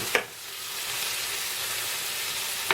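Tomatoes fry in a pan with bacon and scrambled eggs, giving off a steady bright sizzle, with a couple of sharp scrapes of stirring at the start and end and no voices.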